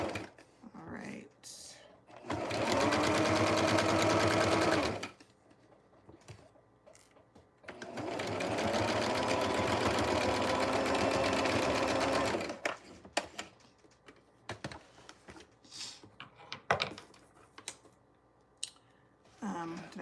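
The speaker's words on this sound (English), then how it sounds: "Turn the machine on, get my foot pedal in position." A sewing machine chainstitching a vest runs in two sustained bursts, the first of about three seconds and the second of about five, each driven from a foot pedal. It is loud and close, and brief clicks and handling noises fill the gaps between the bursts.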